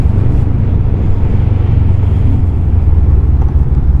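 A Macbor Eight Mile 500 Street motorcycle on a test ride through city and coastal roads, its engine giving a steady, loud low rumble mixed with wind and road noise, with no talking.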